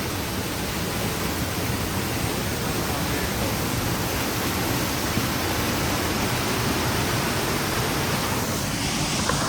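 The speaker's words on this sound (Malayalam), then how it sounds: "വെള്ളത്തിന് സൗണ്ടൊക്കെ ഉണ്ടോ" A waterfall deep in forest near Mussoorie roars as a steady, dense wash of falling water, loud and close, unbroken from start to finish with no other sound rising above it.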